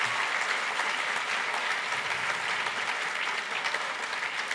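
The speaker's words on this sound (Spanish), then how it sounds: "brindémosle un fuerte aplauso a José María Sanabria." A conference audience at an Ogilvy Talks stage event applauds loudly and steadily, a dense wash of clapping that continues throughout.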